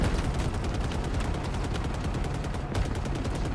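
Rapid machine gun fire in a video game, a fast continuous stream of shots with only a brief break near the end, loud and close with no talk.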